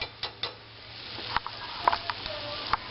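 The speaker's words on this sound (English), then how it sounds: "Let me get a little cook on this roux, because we don't want that raw flour taste." A flour roux cooks in a pan for beef tips and gravy, giving a soft steady sizzle with scattered sharp clinks and scrapes as a utensil stirs against the pan.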